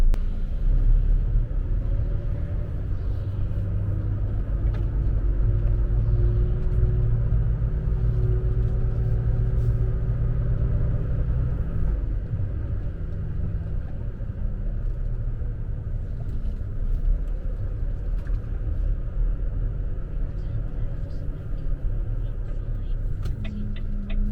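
A long-haul truck rolls along a narrow road on an island in Norway, its engine a steady, loud low rumble heard from inside the cab, continuous throughout with no break.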